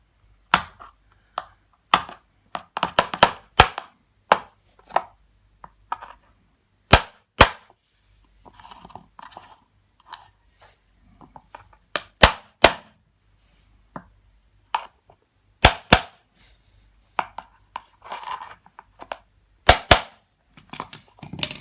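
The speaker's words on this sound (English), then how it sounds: "we can just hammer this in as well" Sharp metallic hammer strikes driving a ball bearing into a Babyzen Yoyo stroller wheel ring out at irregular intervals, some in quick bursts, others spaced apart, close up with quiet pauses between.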